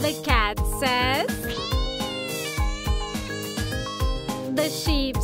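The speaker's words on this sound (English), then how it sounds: "The cat says." A cat meows several times in rising and falling calls, with sung or spoken voices woven in over cheerful background music.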